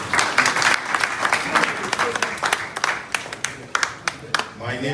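A seminar audience of film crew members claps in a dense, loud round of applause that stays strong throughout, with a few sharp individual claps standing out near the end.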